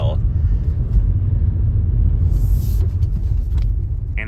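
A 2025 Toyota RAV4 Hybrid with eAWD on Dunlop Grandtrek PT20 tires makes a U-turn on snow and ice, with a steady low cabin rumble of road and tire noise throughout and a brief soft hiss midway.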